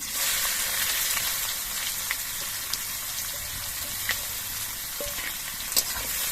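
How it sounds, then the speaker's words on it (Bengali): Chopped onions fry with spices in a pan, giving a constant bright sizzle with occasional sharp ticks and pops from stirring, close and steady without speech. "এবার এই পেঁয়াজগুলো কিছুক্ষণ ভেজে নিতে হবে"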